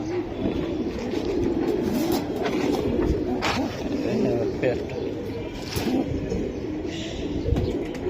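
Pigeons coo softly amid a busy, noisy background with people talking nearby.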